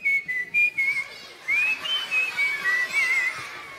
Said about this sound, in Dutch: Hang daarmee op met dat gefluit.